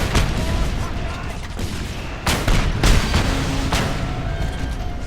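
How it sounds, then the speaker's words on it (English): Explosions going off in Just Cause 2, a run of sharp blasts and crackling bursts over a busy, noisy action backdrop, with the strongest booms landing near the middle of the stretch. "Things are exploding."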